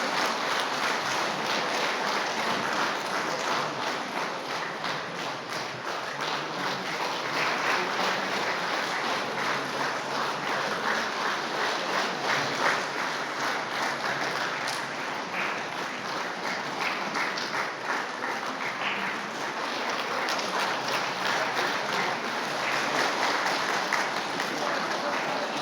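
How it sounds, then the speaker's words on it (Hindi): A crowd at a trade union federation gathering in Pasighat, Arunachal Pradesh, claps loudly and continuously for about twenty-five seconds, a dense, even roar of applause without pause. "जोर से ताली मारिएगा"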